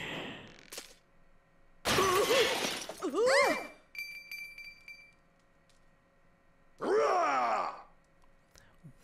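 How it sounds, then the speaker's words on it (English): A character in The Legend of Zelda: Skyward Sword smashes pots, with loud shattering glass-like crashes alongside grunting vocal effects, in bursts separated by quiet gaps. "He just starts smashing everything."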